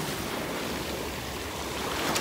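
Waves wash steadily along a waterfront on a cold October day, a continuous near surf hiss mixed with wind buffeting the microphone, with no voices.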